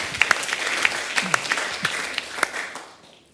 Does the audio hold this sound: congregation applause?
yes